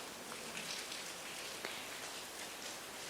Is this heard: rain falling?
yes